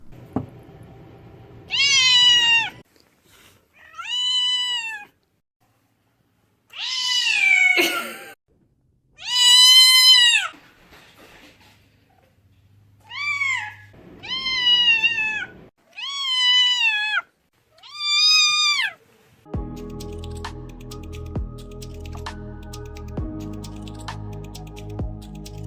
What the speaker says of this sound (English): This cat is completely deaf, so she's always surprised when her owner greets her.